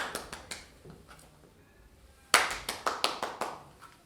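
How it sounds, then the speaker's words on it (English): A pair of hands clapping in two bursts of sharp, dry claps, a few irregular claps first, then a louder, quicker run of about eight claps tapering off. "Clap your hands."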